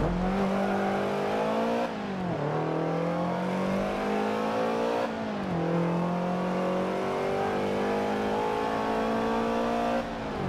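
A Subaru BRZ racing in Forza Motorsport 7, its engine droning loud and steady with rising revs through the gears and two upshifts, each followed by a drop in pitch. The engine plays alone with no talk.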